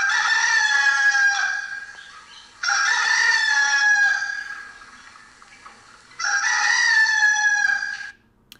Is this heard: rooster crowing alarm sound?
yes